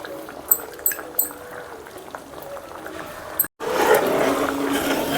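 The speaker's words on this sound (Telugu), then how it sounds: "ఆ తర్వాత కొబ్బరి పేస్ట్ వేసేయాలండి" Fresh coconut paste goes into a simmering prawn and lady's finger curry with tamarind juice, giving a few soft clinks and stirring over gentle bubbling, then a louder, steadier boiling hiss after a brief pause.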